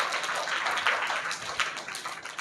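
Children clap for a boy at a church vacation Bible school magic show, a brisk scattered round of hand claps filling the room, fairly close and without talk.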